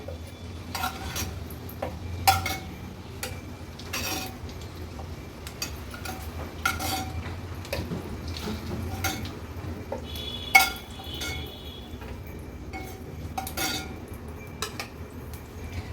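Fried eggs are lifted out of a pan, with scattered metallic clinks and taps of utensils against the pan at irregular intervals over a low background, close and fairly quiet.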